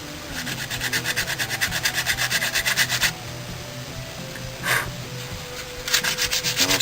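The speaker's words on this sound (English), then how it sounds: "sandpaper in all the grooves just to finish them off" Sandpaper rubs back and forth in the grooves of a custom knife handle, giving rhythmic, rasping strokes in two close bursts separated by a pause and a brief scrape.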